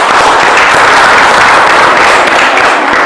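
Girls in a TV game show studio clap after a performance. The applause is loud, dense and sustained, and fills the whole stretch at a steady level.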